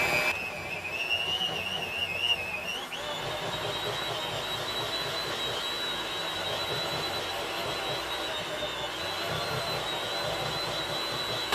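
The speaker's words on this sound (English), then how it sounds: "I'll start turning up the speed. And just keep whipping it." Electric mixer beaters whip cream cheese frosting for pumpkin bars at high speed, a steady loud whirring drone with a whine that climbs in pitch around the third second and then holds, continuous and alone.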